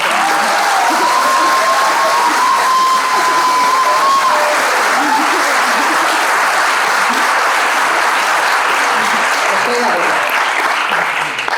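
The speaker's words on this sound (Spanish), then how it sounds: "si no os importa pediros un aplauso muy rápido" Audience applause at a storytelling event honoring the festival poster artist, loud sustained clapping throughout, with a faint voice briefly audible in the mix.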